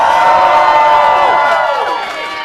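A large crowd at a live concert in Columbus, Ohio cheers and whoops loudly, a dense roar that holds steady and then eases slightly toward the end.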